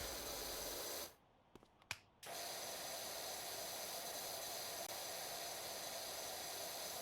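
In PowerWash Simulator, a pressure washer sprays water in a steady, broad, loud hiss that cuts off for about a second with a couple of small clicks, then resumes and runs on continuously.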